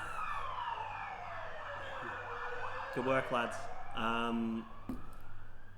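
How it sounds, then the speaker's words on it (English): An ambulance siren wails and sweeps as it comes around a roundabout, rising and falling in pitch and loudest near the middle, while people talk over it. "another ambulance coming around the roundabout"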